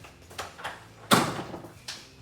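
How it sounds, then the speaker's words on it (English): A bedroom door in a home, with several soft knocks and clicks of the handle and latch, then one sharper louder thump as it moves, followed by a fainter click. "I'm going to open the door"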